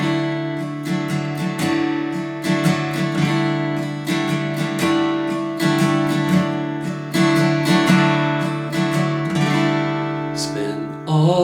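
Acoustic guitar plays the intro of a song, a steady stream of fingerpicked notes and ringing chords, close and clear with no voices.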